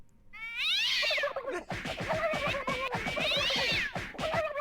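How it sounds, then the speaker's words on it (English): A cat lets out two long, drawn-out yowling meows, loud and close, with rough scuffling noise in between. "Cat got the ass whooped."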